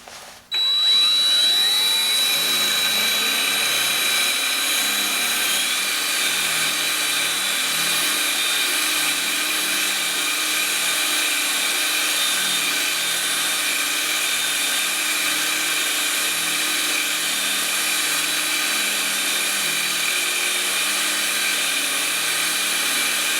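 A drill bit bores into a twisted wooden vase turned on a wood lathe: a steady, loud whirring whine that starts abruptly and holds evenly for over twenty seconds, close by, with no talking.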